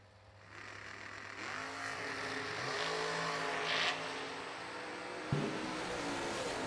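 A dragster and a Pontiac launch side by side at a high-stakes drag race, engines roaring and building steadily from a distance into a sustained, loud rising howl with crowd and track ambience.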